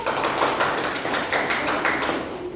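A classroom of students clapping for a presenting group, quick overlapping claps at close range, fairly loud and steady, tapering near the end.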